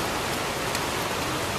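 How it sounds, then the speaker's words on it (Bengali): Steady rain falling on a wet road on the way to Talsari sea beach near Digha, a dense, even hiss that fills the whole moment with no voices. "আর এখানে নেমে গেছে বৃষ্টি, দেখতে পাচ্ছ পুরো রাস্তা রাস্তা ভিজে গেছে"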